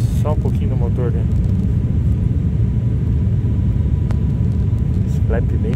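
Engine drone from inside the cabin of an ATR 72-500 on landing approach with flaps lowered, a steady low rumble throughout while passengers talk over it in short bursts.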